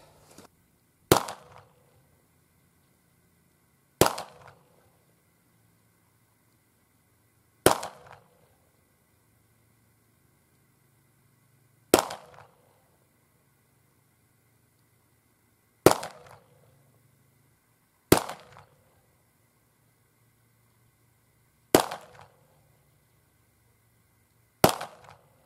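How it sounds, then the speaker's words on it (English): Eight sharp gunshots from a small snub-nose revolver ring out one at a time at an outdoor range, spaced several seconds apart. Each report is loud and abrupt with a short ringing tail, and near silence falls between shots. "Let's also try a little snub-nose revolver."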